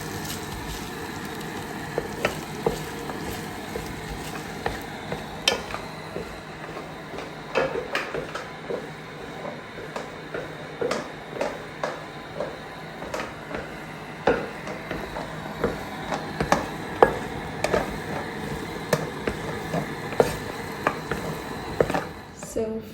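Basmati fried rice being cooked in a pan, with scattered clinks and scrapes of a utensil against the pan over a low kitchen background, steady taps recurring throughout.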